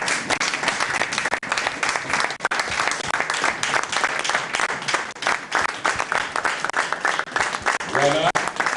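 An indoor audience claps steadily and continuously at close range, a dense, even applause holding the whole time, with a brief voice near the end.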